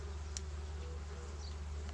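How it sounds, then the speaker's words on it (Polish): Honeybees hum and buzz at an open beehive, a close, steady drone held throughout with no talk. "Fajna pszczoła, widzicie, nawet nie wychodzi za bardzo, tutaj troszkę wyszła."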